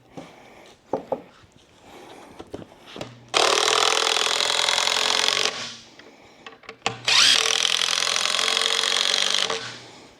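A few knocks and handling taps, then two long, loud whirring bursts of a power drill driving timber screws into a wooden archery target stand brace.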